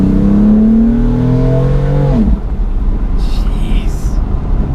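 A BMW F80 M3 engine winds up hard with rising harmonic pitch for about two seconds, then cuts off abruptly into a steady road and cabin rumble.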